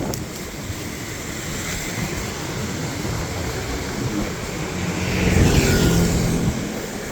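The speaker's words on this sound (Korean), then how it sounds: "여기 베트남에는 어디를 가나 오토바이들이 굉장히 많이 있습니다" Motorcycle traffic in Vietnam hums along a beachfront road, with one vehicle swelling louder as it passes near the end over a constant bed of wind and surf.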